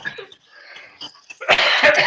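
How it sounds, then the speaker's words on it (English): A single harsh cough bursts out near the end, loud and close, after a short stretch of quieter breathy sounds. "I almost muted the cough."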